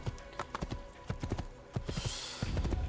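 A horse in the video game Assassin's Creed II clops along at a steady walking rhythm, sharp close hoofbeats with a brief rushing sound partway through.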